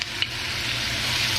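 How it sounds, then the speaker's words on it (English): Garlic and ginger sizzle in hot oil in a pan while being stir fried, a steady, close hiss with a brief stirring clatter at the start. "let it stir fry for about 30 seconds, just until it's nice and aromatic"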